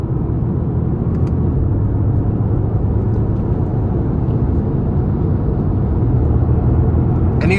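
A 2018 Mercedes-AMG GT-R in sport mode accelerates hard, its engine a loud, steady, deep roar that holds for several seconds from inside the car, with no talking.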